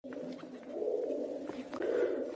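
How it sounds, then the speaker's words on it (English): Pigeons coo at an ancient temple of Zeus, with soft, rolling, fairly close calls repeating over a quiet, faint background. "And the pigeons are cooing?"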